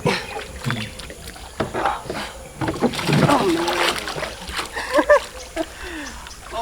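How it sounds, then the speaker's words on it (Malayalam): A homemade electric boat splashes and sloshes in water with irregular close bursts of churning and dripping, while people talk over it. "അപ്പോൾ നമ്മുടെ ബോട്ട് നമ്മളിത് വെള്ളത്തിൽ ഇറക്കിയൊക്കെയാണ്"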